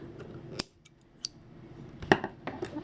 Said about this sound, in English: Grab your scissors, cut as close as you can.